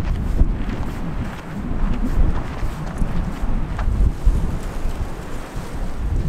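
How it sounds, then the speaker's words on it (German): Strong wind gusts across an Argentine coastline near a shipwreck, a steady low roar of buffeting air with surf-like wash rising and falling throughout, close and loud with no voices. "kaum sind wir wieder auf dieser Seite der Küste, ist es richtig windig"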